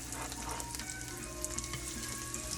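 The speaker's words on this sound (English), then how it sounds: "You can see it's not smoking, but it does get a nice sizzle." Food frying in oil on medium heat in a pan, with a soft, steady sizzle and faint crackles running throughout, quiet and close with no voices.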